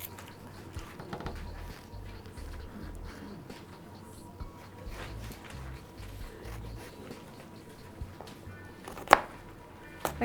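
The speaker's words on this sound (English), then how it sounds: "we'll cut our onion again" A knife chops onion on a cutting board in quiet, irregular taps, soft and close, with a few sharper knocks near the end.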